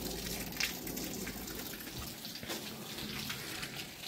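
Water runs from a stone spout at a traditional dhara near Nilbarahi temple in Bhaktapur, Nepal: a steady, soft gushing stream that continues unbroken and fairly quiet throughout, with no voices.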